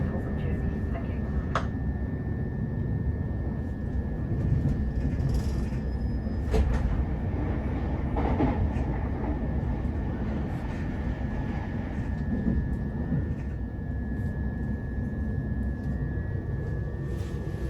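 A Southern Class 377 electric train running on the Gatwick Express service, with a steady interior rumble and whine of the moving carriage heard throughout, under an onboard announcement.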